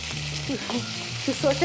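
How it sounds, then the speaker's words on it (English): Onions sizzle steadily in a hot pan, a bright crackling hiss with faint stirring scrapes and low background hum. "Right now I'm frying my onions"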